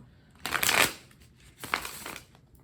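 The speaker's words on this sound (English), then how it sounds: "I'm just gonna do a really quick shuffle" A deck of cards is shuffled in two quick riffling bursts, close up, with a short pause between them.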